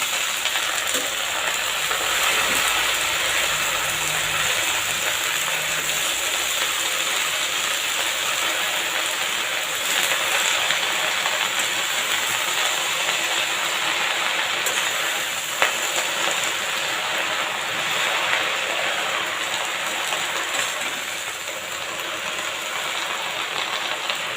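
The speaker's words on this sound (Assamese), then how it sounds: "মই এইখিনি লৰাই দি আছোঁ এতিয়া" Bottle gourd greens and stems stirred in a hot pan over a flame, giving a steady, fairly loud frying hiss that carries on unbroken, with an occasional faint utensil scrape.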